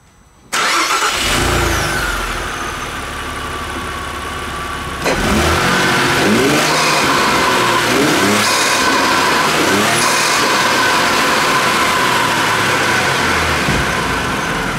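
Car engine with a newly fitted intake catches and settles into a steady mid-pitched run, then steps up louder around midway and holds a sustained rev, close and dominant throughout.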